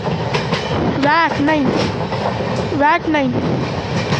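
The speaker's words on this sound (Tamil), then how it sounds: "Goods train, WAG9 BCNA goods train." A goods train hauled by a WAG9 electric locomotive with BCNA wagons rolls past with a continuous rumble and rhythmic clacking of wheels, while a person talks over the noise.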